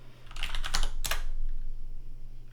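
Brief burst of computer keyboard typing, a few quick clustered keystrokes followed by one sharper tap, close and clear over a low steady hum.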